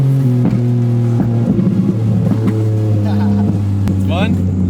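A flame-tuned car with its exhaust fitted revs hard, a loud burbling engine note broken by sharp crackles and pops, with people talking over it.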